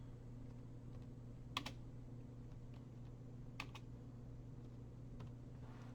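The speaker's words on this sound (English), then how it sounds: "I can type it like this, just spaces." Number keys tapped on a computer keyboard give a few sharp, scattered clicks over a faint steady room hum. The keystrokes are quiet and widely spaced, with no talking.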